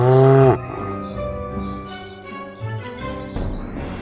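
A cow gives a loud, close moo with strong harmonic tones lasting about half a second, followed by a softer, lower sustained tonal call, with no talking.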